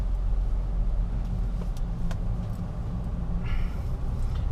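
Inside a 2005 Mercedes C320 CDI Avantgarde with 7G-Tronic automatic, a steady low engine and road rumble drones while driving, with faint clicks and a brief higher whine near the end.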